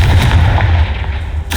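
A Confringo fire spell blasts in the video game Hogwarts Legacy, a loud, dense explosive boom that rolls on for over a second and ends in a brief bright crackle.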